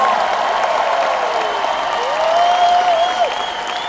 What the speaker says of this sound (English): Somebody clap your hands like you believe it.